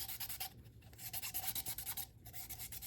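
A 3D resin print is sanded by hand in quick back-and-forth strokes, a close, soft rhythmic rasping with brief pauses between passes.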